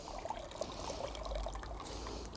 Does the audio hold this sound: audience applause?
no